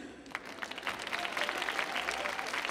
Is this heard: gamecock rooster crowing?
no